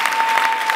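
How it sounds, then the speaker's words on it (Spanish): A short burst of crowd applause at a freestyle rap battle event, quick dense clapping from the audience lasting under a second. "Un aplauso para los autodidactas."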